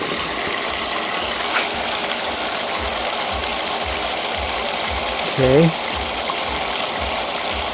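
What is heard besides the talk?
12-volt bilge pump running, pumping water through prospecting machine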